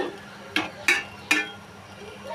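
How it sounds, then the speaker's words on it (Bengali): A spatula clinks against a cooking pan while hilsa fish is stirred, giving three sharp metallic taps spaced about half a second apart over a low kitchen background. "মাছটা দিয়ে দিচ্ছি, নেড়ে দিচ্ছি সুন্দর মতন"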